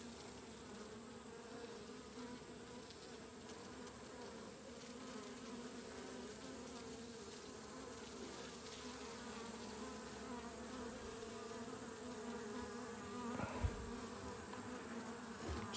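Africanized honeybees in an opened hive produce a dense, steady buzzing hum, close and continuous, with the agitated colony droning throughout and a brief knock near the end.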